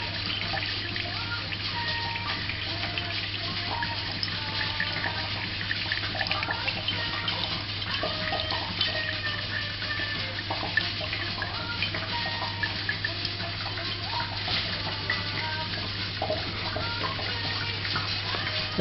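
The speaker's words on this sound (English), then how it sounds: "Nice steady little stream coming out." A small steady stream of distillate trickles continuously from an 800mm, 2.5-inch reflux still column running at about 95 percent, giving a soft, even liquid sound over a constant low hum.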